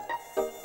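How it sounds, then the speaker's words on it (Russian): Mosquitoes buzzing indoors, three brief high whining bursts in quick succession, each swelling and fading, close by and alone. "Сколько тут комаров."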